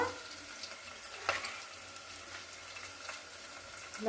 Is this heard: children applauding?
no